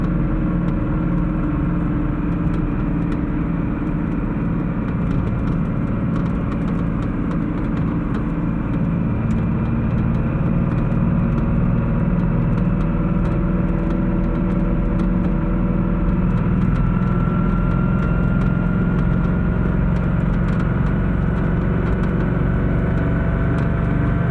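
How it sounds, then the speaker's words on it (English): A 1988 Porsche 911 Carrera engine rumbles steadily from inside the cabin while driving, a constant low drone with faint ticking rattles over it. "they rock and rattle and make all kinds of funky noises"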